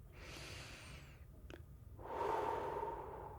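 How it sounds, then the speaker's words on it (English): A slow, deep breath during a calm guided relaxation for anxiety: a soft airy inhale, a brief pause, then a fuller, louder exhale, close and unhurried with no talking. "one more deep breath"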